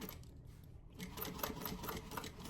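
A sewing machine back stitches a small fabric craft charm, running steadily with a fast, even needle rhythm up close and barely pausing throughout, with no talking.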